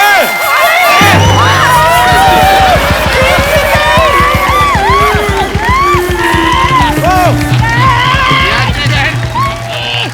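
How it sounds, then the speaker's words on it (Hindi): A studio audience at a Hindi comedy show claps rapidly and cheers loudly, a dense burst of applause with shouts and whoops that carries on throughout, with voices yelling over it. "अरे ताली मार रहे हैं"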